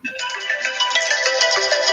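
A mobile phone ringtone plays loud and close for about two seconds, a steady bright electronic melody of repeating tones with no talk over it.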